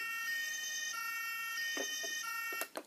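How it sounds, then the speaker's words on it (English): A Playmobil Coast Guard toy ambulance sounds its small electronic siren, a thin, tinny wail that holds steadily and ends with a few clicks and knocks of the toy being handled. "Oh yeah, you can see the siren on."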